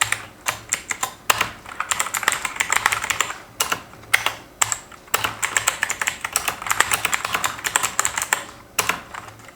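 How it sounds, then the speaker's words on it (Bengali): Fast, uneven typing on an HP GK320 full-size wired mechanical keyboard with RGB backlight, close and crisp, with dense bursts of key clacks broken by short pauses and no voices. "সো টাইপিং আমরা এখানে জাস্ট একটু চেক করে নিই।"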